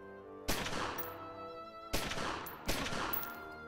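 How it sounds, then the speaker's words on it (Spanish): Gunshots in the video game Omertà: The Japanese Incentive: three sharp, loud blasts, each trailing into a ringing decay, with no talk. "Yo disparo, tú mueres."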